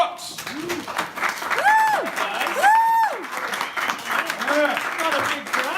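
An audience at a Coney Island magic show applauds magician Roderick Rooks, with a burst of clapping and cheering mixed with whoops and a voice calling out over the crowd.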